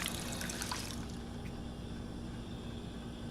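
Fountain water trickling in the Fallout video game, a short bright splashing burst in the first second before fading into a constant low hum.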